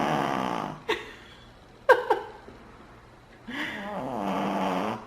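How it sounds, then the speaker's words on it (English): Soft rhythmic snoring from a dog at close range, slow breaths with a few short snorts in between, no talking. "Do you hear her snoring?"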